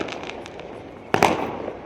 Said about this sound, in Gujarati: આ બાજુ તો ફટાકડા ફૂટવા માંડ્યા